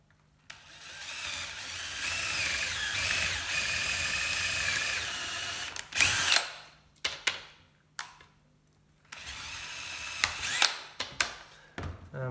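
A power drill bores through a scrap piece while someone makes a simple centre line finder: a long continuous whine of drilling, then a series of short, sharp bursts separated by quiet gaps.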